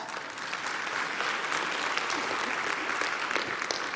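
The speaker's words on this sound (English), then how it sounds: "A round of applause for our choir." Steady applause from a graduation ceremony audience for the choir at Nelson Mandela University's Gqeberha campus, a dense, even wash of clapping that holds at constant loudness throughout.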